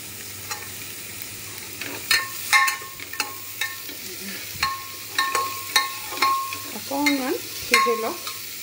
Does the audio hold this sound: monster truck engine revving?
no